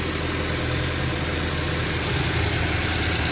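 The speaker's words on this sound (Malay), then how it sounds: "Start engine dulu. Bismillah. boxer engine." A car's boxer engine, just after an oil service, idles with a steady, close, even rumble and no break in the sound.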